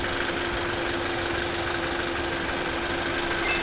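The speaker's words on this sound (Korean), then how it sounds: "시동 한번 잘 걸렸고요. 엔진 떨림 보시죠?" A Hyundai Grandeur IG 2.4 engine idles steadily and evenly outdoors, a low continuous hum close by with no voices.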